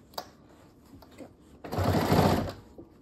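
Sewing machine stitching a SnackPack around a basted corner, a single short, loud burst of running stitches after a few quiet handling clicks.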